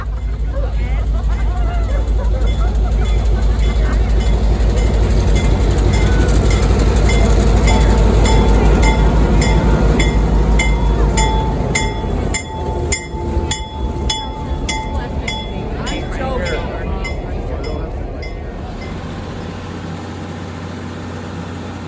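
Passenger train running through a dark canyon at night, with a loud steady rumble and rhythmic clatter of wheels over rail joints while passengers chatter in the background, the rumble easing toward the end.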